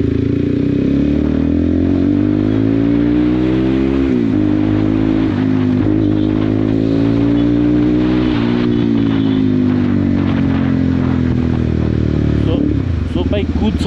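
A CrossFire CF 250 twin motorcycle engine rumbles steadily through its exhaust close by, its pitch rising and falling with throttle changes, under continuous wind and riding noise, with a voice talking over it.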